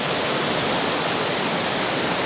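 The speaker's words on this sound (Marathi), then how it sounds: "असा जोरदार हा झरा वाहत आहे पाण्याचा" A loud, steady rush of water from a strongly flowing mountain stream in the Konkan hills, a constant broadband roar with no pauses or voices.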